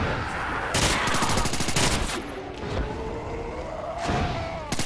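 Bursts of gunfire at a shooting range in a video game custom map, rapid repeated shots in loud clusters with a faint voice underneath.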